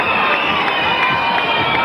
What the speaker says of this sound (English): the crowd are absolutely wild here now.